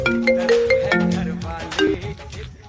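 A melodic ringtone tune plays nearby, a short sequence of bright electronic notes repeating over a couple of seconds.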